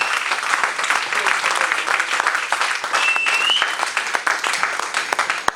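A church congregation applauding to acclaim the Lord, with dense, sustained clapping from a crowd filling the room and a brief whistle partway through.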